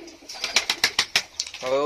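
Pigeons on a sunny rooftop give a quick run of loud, rhythmic flaps or coos close by, about eight pulses in under two seconds, with a voice starting at the end.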